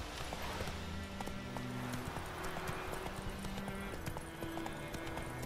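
Rapid hoofbeats pound in a steady galloping rhythm in The Witcher 3: Wild Hunt, close and continuous, over a dense background of ambient game sound.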